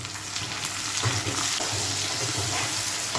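Tomatoes and onions frying in a pan with garlic paste for an egg and pea curry, a steady close sizzle with occasional stirring scrapes, continuous and fairly loud throughout.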